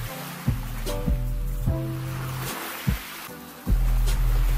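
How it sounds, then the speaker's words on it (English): Giant ocean waves break at Nazaré's North Canyon in Portugal, with a steady roar of surf and several heavy low thuds as swells crash, the loudest surge arriving near the end. "Nazare North Canyon Big Waves Generator, where the sea offers giant waves."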